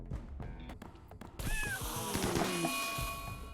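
Cats yowling and meowing in the Rimworld colony game as they are attacked, a loud burst of sharp pitched cries and caterwauls over busy game noise and impacts.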